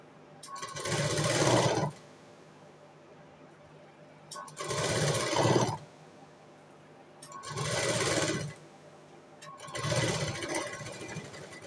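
A sewing machine stitches piping around a square neckline in four separate bursts of about a second each. The bursts are close and fairly loud, with quiet pauses between them.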